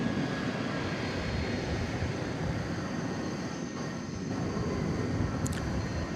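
An American Airlines jet arriving from Denver at DFW Airport at night, a steady broadband engine roar holding close and loud throughout, with no voices.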